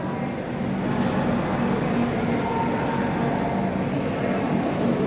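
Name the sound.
train at Secunderabad railway station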